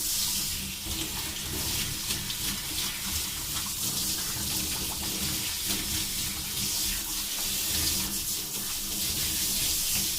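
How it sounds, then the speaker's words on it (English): Water sprays steadily from a hose nozzle as a dog is rinsed during grooming inside a trailer, a continuous close hiss with small splashing variations throughout. "This is how I rinse my dogs and wash them in the trailer."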